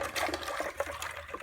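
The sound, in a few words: hot blacksmith tongs quenched in a bucket of ice water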